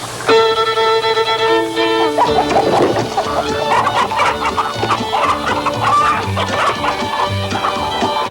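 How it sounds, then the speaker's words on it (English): Chickens clucking and squawking loudly over lively, bouncy music, with a rooster-like crow at the start. "they're chasing chickens with silly music playing"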